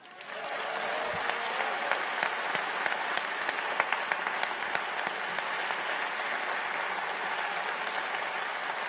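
A large audience applauds during a Mélenchon political speech calling for repeal of the El Khomri labour law. The clapping is dense and sustained, rising quickly and holding steady throughout, with faint crowd voices mixed in.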